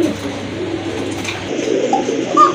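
Pigeons cooing at a Bangladeshi pigeon sale, fine thin calls from a pair of fancy breed birds, faint and intermittent over a steady low background murmur with no talk.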